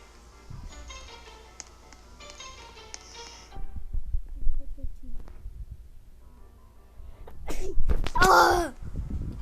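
A single sharp sneeze bursts out near the end after quiet background sounds and faint music-like tones, close and fairly loud.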